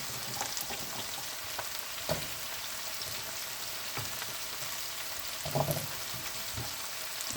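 Pumpkin cubes cook in a pot of Jamaican brown stew fish seasoning, giving a soft steady sizzle with a few louder stirring bumps and scrapes.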